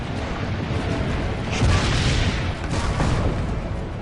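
Cannon fire in the Assassin's Creed Brotherhood video game: a steady, dense rumble of distant booming blasts that swells slightly in the middle.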